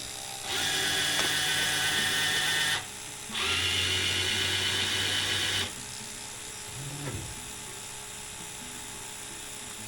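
A UV printer powers back up after its water pump is replaced, giving two steady mechanical whirring bursts of a few seconds each with a short pause between them, then a quieter hum and a faint brief chirp.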